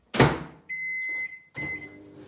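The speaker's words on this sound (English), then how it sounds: "I'm going to pop this in the microwave," A microwave oven runs after a silicone mould for custom knobs is put in to cure, giving a steady close hum with a high tone that stops briefly and starts again, with a thud at the start.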